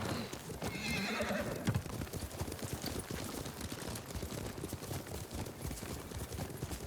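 Armored horse in a samurai video game galloping with rapid, steady hoofbeats, and a loud whinny early on, close and continuous under a busy game soundscape without speech.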